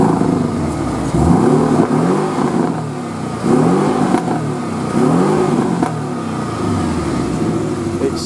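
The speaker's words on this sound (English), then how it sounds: "I'll pop it into sport mode and I'll give it a rev for you" A Porsche 718 Boxster with PDK gearbox, set to sport mode, revs hard while parked: three or four loud, close throttle blips rise and fall, each one followed by a brief settle back to a rumbling idle.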